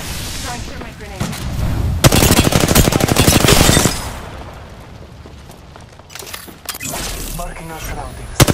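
Video game gunfire comes in rapid automatic bursts, loud and close, separated by quieter stretches, with a voice talking over parts of it.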